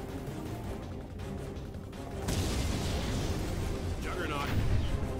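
An artillery barrage in Command and Conquer 3: Tiberium Wars rises into a loud, dense rumble of booms and crashes that swells and holds, with sharper impacts near the end, under game voices.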